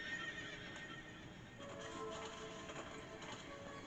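A horse whinnies amid steady clip-clop of hooves in Princess Peach Showtime, quiet and in the background, the neigh rising partway through over the rhythmic hoofbeats.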